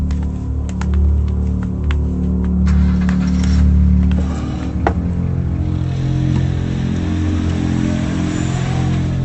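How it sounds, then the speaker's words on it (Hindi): A car starts off and pulls away, its engine humming low and steady, then rising briefly as it accelerates, with a few faint clicks early on and no voices. "गाड़ी निकाल बे।"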